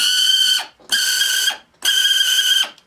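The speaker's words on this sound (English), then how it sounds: "that screeching is the motor" A 1984 Tommy Atomic toy robot by New Bright has its electric motor wired directly to a battery, giving three loud, piercing screeching bursts, each about half a second long, with short gaps between them and no talking.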